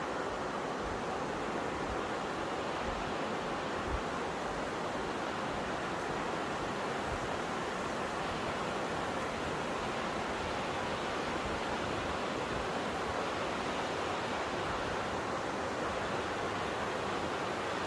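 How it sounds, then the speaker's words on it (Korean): Waterfall at the Hantan River columnar joints in Cheorwon, a constant rushing roar of falling water, steady and unbroken, heard alone without talk. "폭포 소리와 함께"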